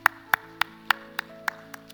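A church congregation gives eight sharp, evenly spaced claps of praise over a sustained organ-like tone, fairly quiet and steady in rhythm.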